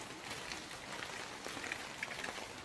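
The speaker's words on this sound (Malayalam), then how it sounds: "ഇന്ന് രാവിലെ വീട്ടിൽ നിന്ന് വരുമ്പോഴേ തുടങ്ങിയ മഴയാണ് കേട്ടോ." Rain falling outside a house, a steady soft patter of drops on surfaces, faint and even with a few slightly sharper taps, no talk.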